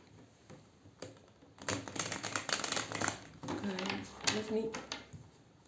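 Cards riffle and rustle in quick crisp bursts close by, a short shuffling sequence with faint background noise.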